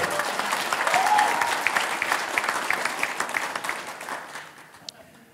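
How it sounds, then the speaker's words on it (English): An audience at a democracy forum bursts into loud, sustained applause that fades gradually toward the end, with a few scattered voices mixed into the clapping. "everyone is clapping all the time."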